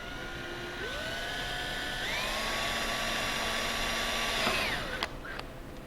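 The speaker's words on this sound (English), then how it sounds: "we'll just go ahead and drill through the upper hole first" A cordless drill drilling a 3/16 mounting hole spins up and whines steadily, rising in pitch as it bites in, then winds down after about four seconds, followed by a couple of clicks.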